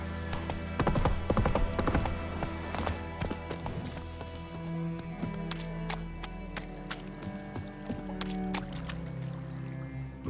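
Horse hooves clip-clop at a steady ridden gait in The Witcher 3, close and rhythmic, with tack and ambient game sounds layered beneath.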